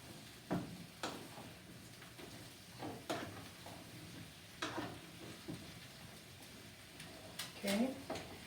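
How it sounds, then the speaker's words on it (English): Chicken frying in oil, stirred with a wooden spoon: a low steady sizzle broken by scattered knocks and scrapes of the spoon against the pan, fairly quiet throughout. "I'm going to get my wooden spoon, and so I'm gonna mix it a little bit here so that it can get the oil"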